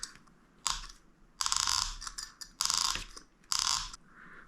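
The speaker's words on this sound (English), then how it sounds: "let's grab the bearing puller" A bearing puller is worked on an indoor split AC blower motor bearing, producing four short bursts of close, bright ratcheting and clicking separated by brief pauses, with no talk.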